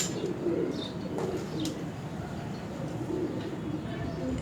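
Pigeons coo softly on a Multan rooftop, low throaty murmurs in short phrases over a constant background hum, with a few faint higher chirps.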